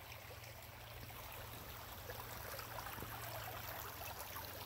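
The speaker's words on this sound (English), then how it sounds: "I hope you can hear me over all the rushing water here" A mountain stream rushes steadily beneath a green forest canopy, its broad, continuous wash of water sound holding even and close throughout with no breaks.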